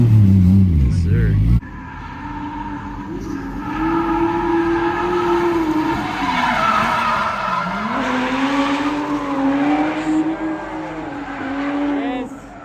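A Toyota JZX100 drifts with tires skidding and squealing, its engine note rising and falling in long sweeps as the revs swing, loud and close throughout.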